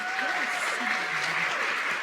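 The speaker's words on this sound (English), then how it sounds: "let's give Emma Sturm a round of applause" A college audience applauds at a State of the College address, steady mid-distance clapping from a crowd with some voices mixed in.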